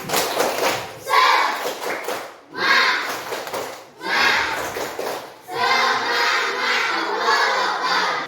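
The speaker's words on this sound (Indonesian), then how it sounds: "Kita coba tepuk semangat." Schoolchildren in a fourth-grade classroom doing a rhythmic spirit clapping chant, loud bursts of clapping and shouted chanting in several phrases separated by brief pauses.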